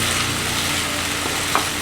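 Onions and dried churi fish (shutki) sizzle and fry in a pan, a steady close hiss and crackle with a brief stirring clatter near the end.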